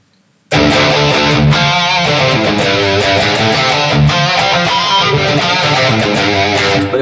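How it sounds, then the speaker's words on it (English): A loud, distorted Les Paul electric guitar through a Marshall amp, with light plugin reverb, plays a driving riff with sustained chords and punchy accents, filling the clip after a brief silent start. "This is just the Les Paul going into the Marshall"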